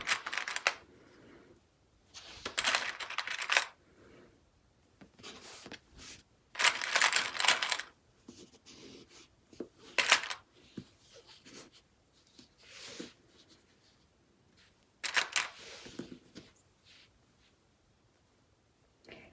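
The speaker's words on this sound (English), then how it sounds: "Get your clips and pins and just clip right sides together, matching up the top" Sewing clips snapping and pins handled while fabric pieces are clipped right sides together, heard as scattered close plastic clicks and rustles in bursts with quiet gaps between.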